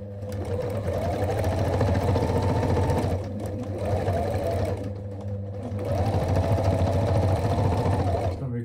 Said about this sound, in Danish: Det er lidt svært at sy lynlås i